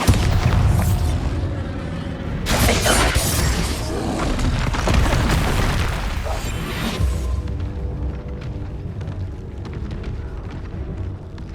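Bombarda blasting spell in the video game Hogwarts Legacy: a series of loud, booming explosions with crashing bursts and whooshes, the heaviest blast near the middle, over dense game combat noise and music.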